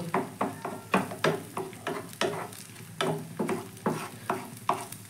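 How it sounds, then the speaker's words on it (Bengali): Two eggs with a pinch of salt sizzle and are scrambled into bhujia in a pan, with about a dozen rhythmic spatula scrapes over a soft frying hiss, close and moderately quiet. "এবার ডিমটাকে আমি ভুজিয়ার মতো করে একটু ভেজে নেব"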